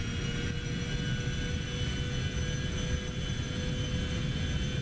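Steady, loud roar of Citation C750 jet engines held at takeoff power in the X-Plane 12 flight simulator, continuous with a high whine layered over broadband rumble.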